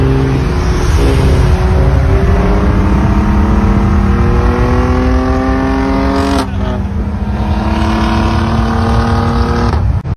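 A Saab Turbo X with an upgraded turbo pulls hard against a stage 3 Saab V6 Aero. Its loud engine roar climbs steadily in pitch, shifts gear midway, then climbs again under heavy wind rush.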